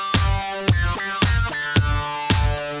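A distorted, sidechained synth bass in the Caustic app plays a riff, heard alone as loud, harsh, pumping notes that swell and duck in a steady rhythm about twice a second.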